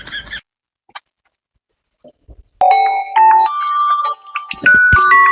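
A phone ringtone plays a bright electronic melody of stepped tones, loud and close, after a few short chirps and clicks.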